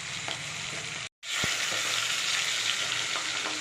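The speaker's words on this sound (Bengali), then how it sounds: "দূরের থেকে দাঁড়িয়ে দাঁড়িয়ে ভাজছি, যদি ফাটে।" Pieces of boal fish fry in hot oil with a pinch of salt in it, a loud, dense, continuous sizzle close by with one brief cut-out partway through and no talk.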